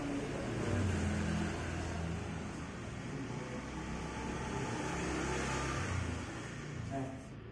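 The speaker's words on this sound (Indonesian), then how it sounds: "Nah, ini ada motor ya" A motorbike passes nearby in a classroom setting, a steady mid-pitched engine drone lasting several seconds that rises slightly and then fades out near the end, with speech running over it.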